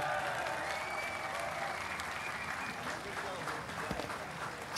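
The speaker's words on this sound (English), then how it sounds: "a huge round of applause for these guys" Crowd applause at a motorcycle racing event honouring world champions Wayne Rainey, Roberts, Doohan and Schwantz, a continuous wash of clapping heard from some distance and at low level.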